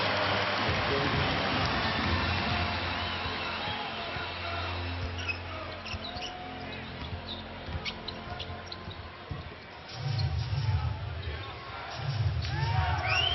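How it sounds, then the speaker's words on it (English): Crowd at a Lakers home game against the Nuggets in the 2010–11 NBA season: a broad arena murmur that swells in spots, with squeaking sneakers and a bouncing ball, under continuous commentary. "Crowd getting a little more into it"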